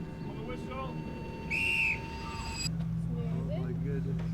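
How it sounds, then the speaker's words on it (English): A referee's whistle blows once, sharp and sustained for about half a second, signalling the start of an event at the World's Strongest Man 2024 competition, with crowd noise and talk underneath. "On the whistle."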